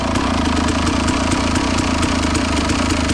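A KTM SX 250 dirt bike engine runs close by at a raised, steady idle, with a dense, rattly two-stroke drone and rapid pulsing throughout, alone without talk.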